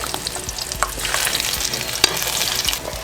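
Garlic and ginger fry in hot oil over a high flame, giving a dense, close, continuous sizzle punctuated by a few sharp stirring clicks.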